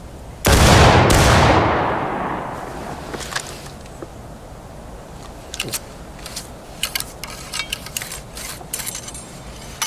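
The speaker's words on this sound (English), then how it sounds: "Take aim to the targets in front. Fire." A massed musket volley from a War of Rights drill camp, one huge near crack with a second close behind and a long rolling echo, followed by quieter metallic clicks and rattles of reloading.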